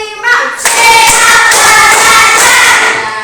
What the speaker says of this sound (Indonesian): Mulai, tepuk 1, tepuk 2, tepuk 3, tepuk 4